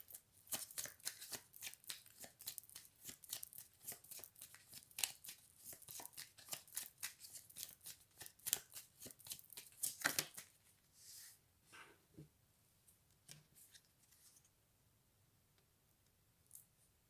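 Tarot cards are shuffled by hand in a long run of quick, close riffling flicks, then a few scattered softer card taps as the shuffling slows and stops.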